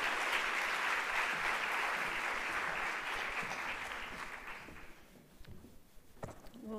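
A conference audience applauding a keynote speaker in a lecture hall, dense sustained clapping that tapers off, followed by faint shuffling and scattered knocks.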